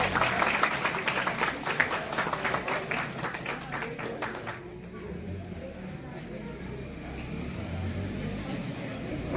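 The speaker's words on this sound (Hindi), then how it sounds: "सभी तालियां बजाएं।" Audience clapping at a block development officer's farewell ceremony in Kaudihar, a dense patter for about four seconds that stops abruptly, leaving low room murmur and faint voices.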